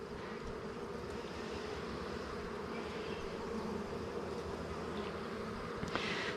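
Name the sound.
honeybee hive buzzing during inspection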